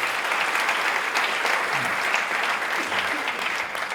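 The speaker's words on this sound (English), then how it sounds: "let's keep the applause going for JH and the whole team for organizing this today" A conference audience keeps applauding the organizing team at a Magento Association gathering, a steady moderate wash of clapping with faint voices mixed in.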